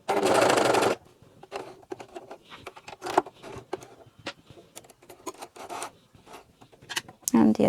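A coverstitch machine stitches a T-shirt sleeve hem, opening with a dense mechanical whir for about a second, then giving way to quieter fabric handling and scattered rubbing and clicking sounds, close by.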